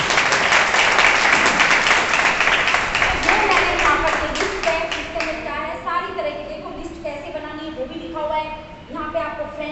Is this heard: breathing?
no